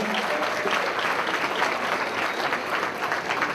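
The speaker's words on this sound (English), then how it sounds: "A round of applause for both these gentlemen." Audience at a community society event applauds steadily, a dense, continuous clapping from a crowd that holds at the same loud level throughout.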